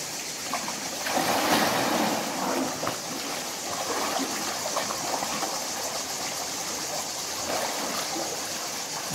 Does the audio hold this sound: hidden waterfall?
yes